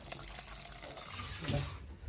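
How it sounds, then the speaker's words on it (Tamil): Water poured into a pan while making semiya upma, a steady splashing trickle at moderate level that swells briefly near the end, with no talk. "நான் தண்ணியை வந்து பார்த்தீங்கன்னா ஊற்றிக்கிறேன்"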